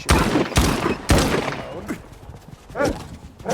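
Gunfire in the video game S.T.A.L.K.E.R. 2, a few heavy booming shots in irregular succession with fading echoes, mixed with other game noise and a voice talking over it.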